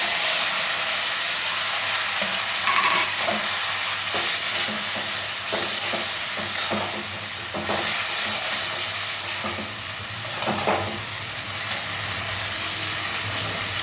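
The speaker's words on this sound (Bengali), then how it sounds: "এখন আমি এই টমেটোগুলো সবগুলি ছেড়ে দেবো।" Tomatoes dropped into a hot mustard-seed tempering for a tomato chutney, giving a steady, close sizzle with stirring scrapes and occasional spatter pops that runs unbroken through the whole clip, with no talking.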